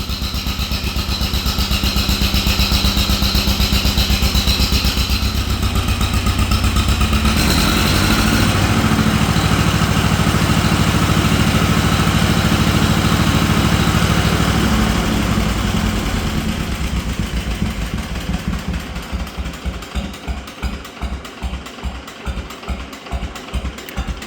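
Old, long-parked tractor engine idling with the choke on and a dirty carburetor, a loud, steady close-up chug that roughens and pulses unevenly toward the end.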